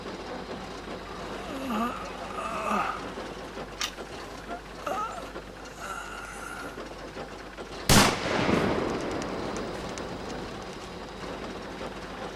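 A single loud, sharp pistol shot from a Russian film rings out near the middle, cutting through a murmur of voices and rain-like background noise, with a lingering tail afterward.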